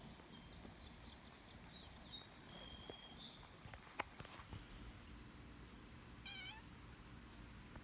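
Outdoors by a pasture, a cat gives a few soft meows, faint and a little distant, over quiet ambient noise with occasional rustles and light steps.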